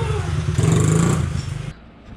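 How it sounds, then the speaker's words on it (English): A Honda CRF50 50cc pit bike engine idles quietly after a kick start, giving a steady low hum before it cuts off abruptly near the end. "you see how quiet it is? I can literally talk over the bike."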